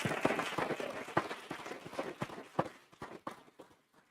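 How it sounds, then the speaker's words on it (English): Applause at a governing board meeting for Ms. Diaz and her students, scattered claps from a modest audience that thin out and fade toward the end, quiet and slightly distant. "let's give Ms. Diaz and our students a round of applause"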